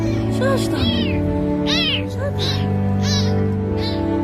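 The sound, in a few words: kitten meowing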